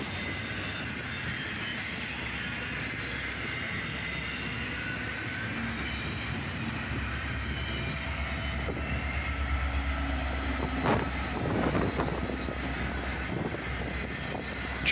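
A long CSX freight train rolls past, a steady loud rumble of rail cars that builds a little louder toward the end, with a few sharper clanks near the close.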